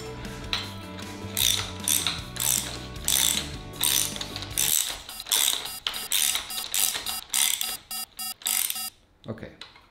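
A ratchet wrench tightens a 17 millimeter nut on a motorcycle steering damper, its rapid clicking pawl close and loud, in quick bursts with short pauses between strokes.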